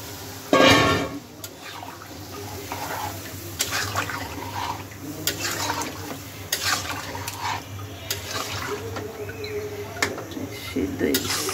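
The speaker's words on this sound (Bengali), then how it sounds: "ঝোল দিয়ে দিই।" Broth splashes into a pan of frying shing fish curry with a short loud pour, followed by steady sizzling and the scrape of stirring, while people talk.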